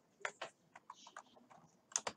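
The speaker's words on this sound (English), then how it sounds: "Type Geneva," Keystrokes on a computer keyboard while entering member records in Microsoft Access 2019, a quick irregular run of close, crisp clicks with brief pauses, no voice.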